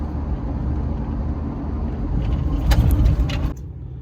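A car pulls up outside a bank, its steady low engine rumble swelling briefly before cutting off near the end, with a few faint clinks over the top.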